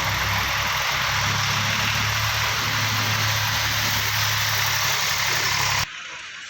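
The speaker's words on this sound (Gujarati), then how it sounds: "ટ્રેક્ટરો ચાલુ જ છે." Tractor engines run steadily at a temple site in Madhada, a loud continuous idling rumble that holds throughout and cuts off abruptly near the end.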